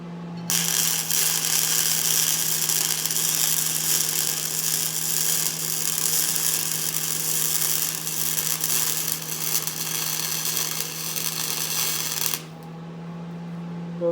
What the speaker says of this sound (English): I welded this side, I'm going to weld the opposite side, and I'm going to weld it up here to help pull it back